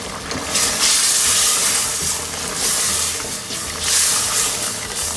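Mutton chops frying in a pot with onions for a salan, a loud steady sizzle and hiss that swells and eases in waves, with no voices over it.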